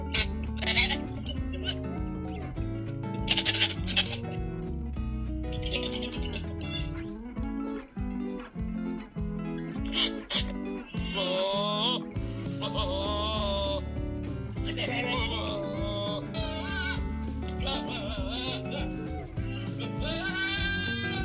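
Goats bleating repeatedly in loud, wavering cries, several overlapping calls close by, with brief pauses and a few sharper bursts between them.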